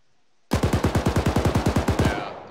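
Rapid automatic gunfire in the video game Arma 3: about sixteen evenly spaced heavy shots in a fast burst after a short near-silent lead-in, loud and close, then a short fading tail.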